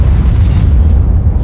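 A tank destroyer firing a shell in a tank video game: a loud, heavy boom with a rumbling low roar that fills the whole moment without fading.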